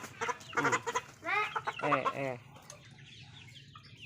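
Chickens kept by a Lao villager cluck nearby in quick bursts of throaty calls that fade into quieter background clucks, while a person speaks briefly.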